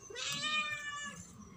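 A young cat, about five months old, meows in a long plaintive, wavering cry, close and clear with no talking.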